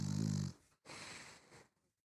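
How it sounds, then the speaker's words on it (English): Snoring, one loud rumbling inhale followed by a softer breathy exhale and a faint tail, close and alone in a quiet room. "You want to end with some snoring?"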